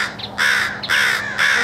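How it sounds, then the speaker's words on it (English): Crows caw loudly and close by in a backyard with jays and a house finch nearby, three harsh calls spaced about half a second apart, with no voices over them. "We have 3 crows,"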